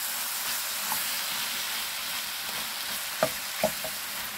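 Squid sizzling steadily in a hot pan as it is stir-fried for spicy Korean ojingeo bokkeum, a continuous close frying hiss with a couple of brief clinks of utensils near the end.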